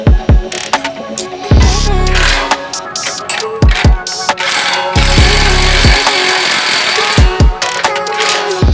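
A hand ratchet clicks rapidly in repeated bursts while tightening rock slider bolts on a 2024 Toyota Land Cruiser, each loud, close run of pawl clicks separated by metallic knocks and brief pauses.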